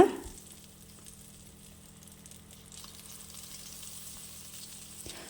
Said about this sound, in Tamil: கொஞ்சம் கொஞ்சமாக எண்ணெயில் போட்டு நாம் எல்லாத்தையும் பொரித்து எடுத்துக்க போகிறோம்